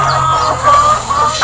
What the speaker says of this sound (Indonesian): secara berternak ayam petelur